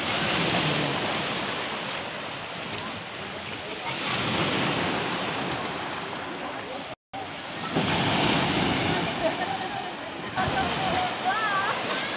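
Sea waves wash onto a beach in a steady, loud roar with wind buffeting the microphone, continuing almost unbroken after a brief dropout midway.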